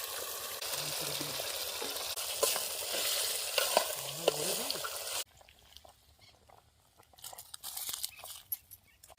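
A loud, steady sizzle of chicken and potatoes frying in a hot pan for biryani, with scraping and stirring, which suddenly drops to quieter crackling and clatter partway through.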